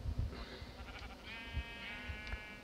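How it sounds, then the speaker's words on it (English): Sheep bleating in Minecraft, several short wavering calls in a row over a soft game background, moderately close and with no talk over them. "I'll hear some sheep."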